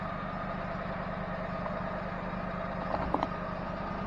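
A John Deere F911 mower engine runs steadily at a fairly constant idle-like drone, close and continuous throughout, with a couple of small clanks near the end and no talking.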